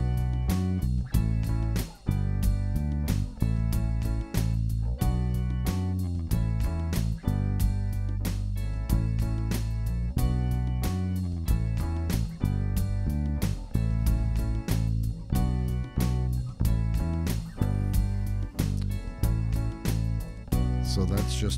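Bass line playing two notes per chord in a rhythmic pattern, not striking on every chord, with steady repeated low notes under a fuller accompaniment across the whole passage, no talking.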